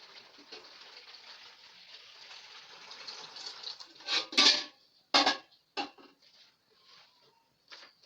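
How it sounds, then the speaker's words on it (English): Water poured into a big bowl in an outdoor cooking setting: a soft, faint trickle gives way to several loud, short splashing gushes in quick succession, then a quieter final splash. "So I will now put my water in a big bowl."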